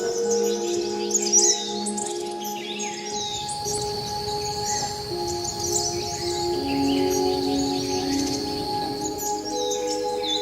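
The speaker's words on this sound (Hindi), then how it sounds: "और चिड़ियों की चहचहाहट के लिए।" Songbirds chirp and call around a quiet garden setting in Dehradun, with steady high whistles and tweets running throughout, joined by a continuous insect-like drone, all fairly close and unbroken by speech.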